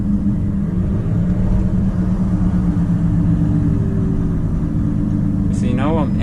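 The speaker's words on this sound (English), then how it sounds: "now I'm engine braking here, or health braking. And it's going pretty fine in this new Volvo FM 460" A new Volvo FM 460 truck pulling a heavily loaded trailer on a winter road, its engine brake producing a steady, loud, low droning rumble throughout.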